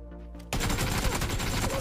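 After a brief quiet lead-in, gunfire in PUBG bursts out in rapid, dense shots, loud and close, continuing without a break to the end with no talking.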